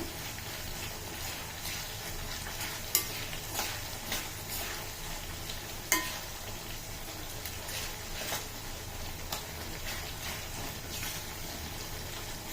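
Amla hair oil simmering in a pan, bubbling steadily with a dense, continuous seething hiss and occasional soft pops, close and fairly loud throughout with no voices.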